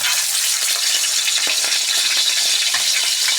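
Meat dropped into hot ghee, frying with a loud, dense, continuous sizzle and crackle, close up, with a few faint pops and no voices.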